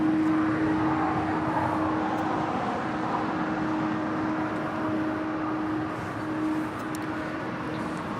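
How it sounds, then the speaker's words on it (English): A United Airlines 777-200ER airliner arriving from Newark, a steady engine roar with a faint sustained tonal whine, constant and moderately loud throughout, fading slightly toward the end, without speech. "this is coming in from Newark, United Airlines Flight 2318 in this"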